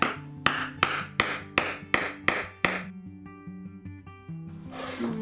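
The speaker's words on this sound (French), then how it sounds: "Et avec un marteau, je tape." A hammer taps a metal eyelet into fabric with seven sharp, evenly spaced strikes close by, followed by a ringing tonal hum and a soft rustle.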